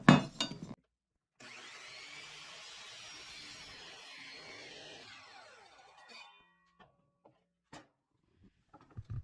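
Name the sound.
miter saw cutting 2x6 wood board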